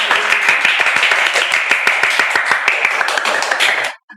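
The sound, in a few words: clapping for the podcast guest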